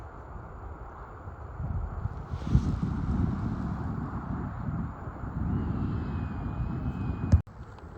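Steady low wind rumble buffeting outdoors on a frozen lake while ice fishing, gusting up and down throughout, with a sharp click near the end.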